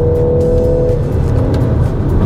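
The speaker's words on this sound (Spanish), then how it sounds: "te emite un rugido mucho más deportivo, valga la redundancia, y ese sonido sale por los parlantes simulados" Simulated engine roar of a Peugeot 3008 SUV played through the cabin speakers during a downshift and acceleration, a loud, steady, throaty drone that rises briefly, with no talking.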